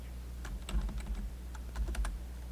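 Fingers tap out a quick burst of keystrokes on a computer keyboard, a close run of sharp clicks over a low steady hum, with no talking.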